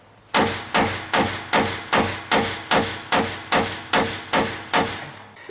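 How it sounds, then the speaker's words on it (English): A hammer pounds on a Chevrolet Silverado truck's spring shackle, about a dozen sharp, evenly spaced metallic blows ringing out in a steady rhythm, close and loud, with no talk. "you can't even pound on this thing with a hammer"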